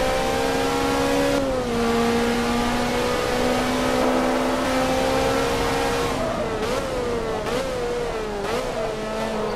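A tuned Ferrari 360 with racing cams in Forza Motorsport 2 holds a loud, steady high engine drone that shifts pitch a few times, dropping and climbing again between gears, with no talk.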